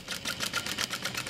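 A sewing machine stitching a dart from line to line, a fast even mechanical whir with rapid regular needle pulses, close and steady throughout the short burst.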